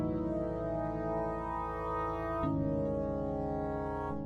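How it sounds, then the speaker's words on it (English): A sustained synth pad chord plays in FL Studio, loud and steady with rich stacked harmonics, shifting to a new chord partway through. "So this is the pad that I'm listening to."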